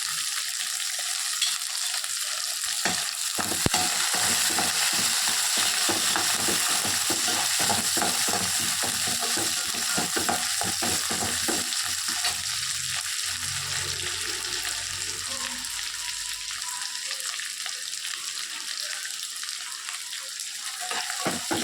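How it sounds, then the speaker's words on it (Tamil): Shallots sautéing in a pan for a bitter gourd gravy give a steady, close frying sizzle with stirring scrapes throughout, easing slightly toward the end, no talk. "நல்லா பொன்னிறமாக வதக்கிக்கணும்."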